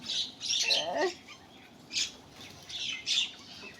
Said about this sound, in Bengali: দেখছো আবার কাক ডাকতেছে